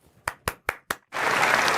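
An audience breaks into applause: four sharp, separate claps ring out first, then the whole crowd joins in a loud, dense, steady burst of clapping.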